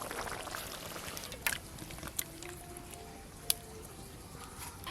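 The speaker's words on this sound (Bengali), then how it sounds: "গ্রেভি আর মাছ একসঙ্গে বেশ ভালো করে ফুটিয়ে নিয়েছি। এবার ঢেলে নেব।" Rui fish in poppy-seed gravy is poured from the pan with a soft, faint liquid pour and a few small clinks in a quiet kitchen.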